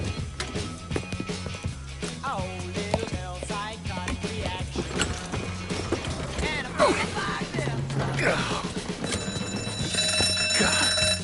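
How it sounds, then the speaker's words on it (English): An alarm rings during a heist in the Mafia 3 video game, a tonal ringing that rises toward the end beneath mechanical clatter and other game noise, with voices talking over it. "You triggered the fucking alarm?"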